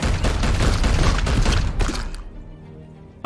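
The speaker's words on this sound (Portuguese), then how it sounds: "Mais um tiro" Gunfire in Warhammer 40,000: Chaos Gate Daemonhunters: a loud, dense burst of shots and booms for about two seconds, then cutting off into a quieter tail.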